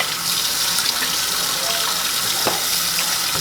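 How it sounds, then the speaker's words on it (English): Tap water runs steadily and loudly as detachable parts of a Mueller Juice Max Pro cold press juicer are rinsed at a sink, a continuous splashing hiss with one brief clunk near the end. "I'm just giving it a little rinse so y'all can see."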